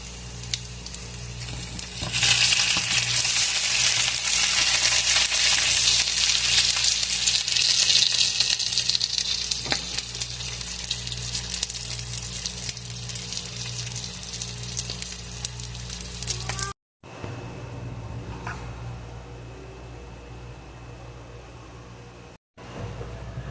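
A bratwurst bun toasts in a hot pan, giving a steady, close sizzle and frying crackle that runs for most of the stretch before quieting, with two short dropouts near the end.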